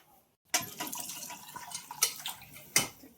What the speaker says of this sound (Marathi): थोडं पाणी अजून टाकले.